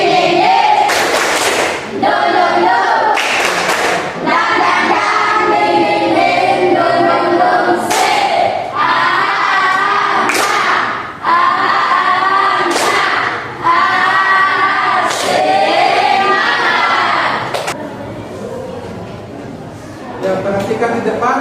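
A classroom of students performs a rhythmic spirit clap in bursts of loud, sharp claps separated by short pauses, with shouting voices mixed in.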